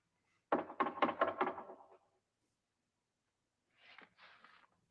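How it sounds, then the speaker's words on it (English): Several quick hollow knocks on a false wall in a haunted-house attraction, loud and close in a fast cluster, followed after a pause by a softer, fainter pair of knocks. "Knocks on her head, makes the same sound."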